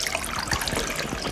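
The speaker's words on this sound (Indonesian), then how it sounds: "Kau hidupkan keran." Tap water runs in a steady, soft trickle, filling a sink in a kitchen scene, a gentle continuous splashing with no voices.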